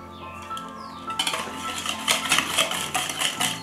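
Pancake batter being mixed in a bowl, with quick, busy clinking and scraping of a utensil against the dish, fairly close and continuous, with no voices.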